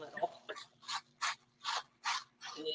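Shaving cream being spread across a cookie sheet with a ruler, giving a series of five or six soft rhythmic scraping swipes, close and fairly quiet, with no talking.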